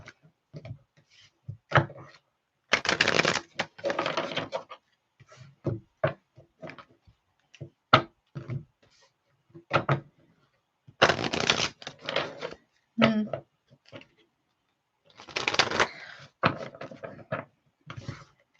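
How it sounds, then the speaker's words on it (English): Tarot cards shuffled by hand in irregular bursts of riffling and soft slaps, close and fairly quiet, with short pauses between passes and no talking. "Let me give this a good shuffle"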